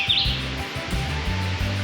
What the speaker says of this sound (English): What kind of bird is it? Red-eyed vireo.